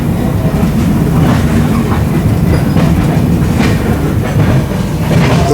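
The 12952 Mumbai Rajdhani rolls on the rails after leaving New Delhi, heard from inside a first AC coach. A loud, continuous rumble carries steady clickety-clack of wheels over the track joints.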